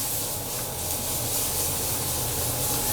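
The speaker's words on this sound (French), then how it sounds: "on rajoute notre sauce tomate" Tomato sauce hitting a hot frying pan while making pizza baguette, giving a loud, steady, dense sizzling hiss that holds for the whole stretch with no voices.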